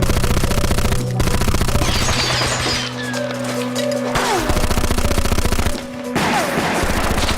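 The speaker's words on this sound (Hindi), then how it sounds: "गोली चल रही है" Dense rapid gunfire crackles throughout with repeated bursts, loud and close, under a constant mechanical drone, with a few sharp crashes between volleys.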